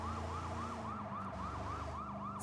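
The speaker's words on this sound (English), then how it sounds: "Sirens." Police sirens wail in the video game Sleeping Dogs, rising and falling in a steady repeating cycle. The sound is moderately distant and continues over a low rumble of traffic.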